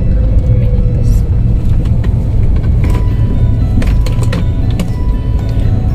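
A small bus passes on a narrow village road between Rembang and Pati, a steady loud engine rumble with road noise filling the whole stretch, heard from close by alongside the recording vehicle.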